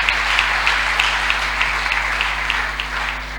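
Sustained applause from a church congregation at a French-language sermon, many hands clapping in a steady, even wash with slight rhythmic accents, no voices on top.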